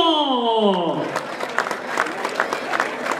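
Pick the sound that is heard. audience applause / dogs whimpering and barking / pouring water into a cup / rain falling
audience applause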